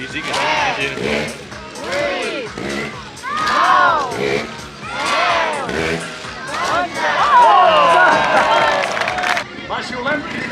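Spectators at a motorcycle trial exhibition by rider Arnau Farré in La Bisbal shout, whistle and clap in a steady, lively crowd roar, with an announcer's excited voice running loudly over it throughout.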